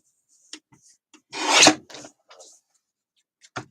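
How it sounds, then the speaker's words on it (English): A paper cutter trims card stock with one quick rasping slice, surrounded by a few soft clicks and taps in an otherwise quiet room. "I'm going to put it back in my paper cutter."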